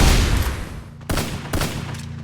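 Gunfire in the battle royale video game Free Fire during a ranked squad match, a loud burst of rapid shots followed by two sharp separate bangs, with no talking.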